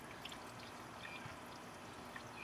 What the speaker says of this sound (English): So let's put some coolant in there.